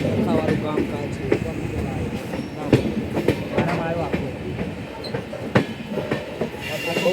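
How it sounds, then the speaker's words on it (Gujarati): A long passenger train runs on rails, heard from onboard. Its carriages clatter steadily, with sharp periodic clicks from the wheels and faint voices in the background. "બહુ લાંબી હો, આ ટ્રેન બહુ લાંબી છે."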